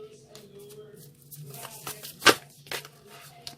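Tarot cards are shuffled by hand, a handful of soft riffling and tapping bursts, one sharper snap in the middle, close and fairly quiet with faint background noise.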